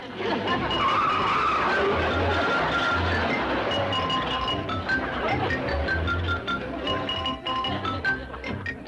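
A car skids with squealing tires and then tears away at speed, a loud sustained screech and engine roar that dominates, with a brief clink and faint voices.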